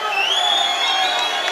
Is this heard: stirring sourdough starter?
no